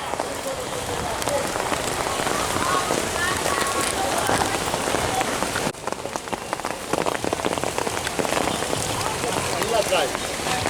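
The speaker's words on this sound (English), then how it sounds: "Rain, folks." Steady rain pours over an outdoor water park on a summer day, a dense, even hiss of drops spattering hard surfaces close by, continuous and loud throughout with a brief dip partway.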